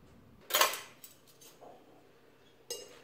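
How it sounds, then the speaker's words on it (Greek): Lettuce, cherry tomatoes and cucumbers are tossed lightly with utensils in a bowl, producing a couple of brief clinking, rustling clatters separated by quiet gaps, close and alone. "Ανακατεύουμε ελαφρά."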